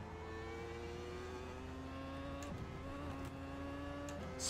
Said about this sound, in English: I know that sounds stupid because it's a Formula 1 car